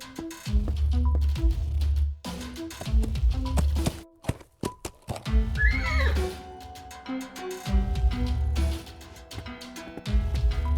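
In an adventure video game, a horse in a stable gives a short whinny partway through. Rhythmic hoof clops and tapping sound effects come first, over a light musical background.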